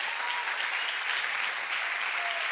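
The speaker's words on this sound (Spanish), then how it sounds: "Dale el aplauso al Señor." Steady, dense applause fills a church service, a congregation clapping continuously at moderate distance with no break.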